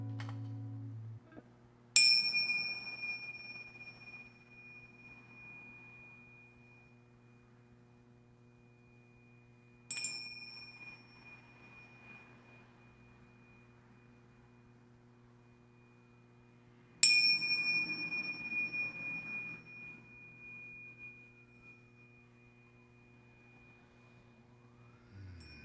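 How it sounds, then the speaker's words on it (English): Small chimes struck three times, several seconds apart, each a bright ringing strike that decays slowly; faint and fairly close in a quiet room with a low steady hum underneath. "I've got my little chimes because I'm going to bring in a little sacred space tonight."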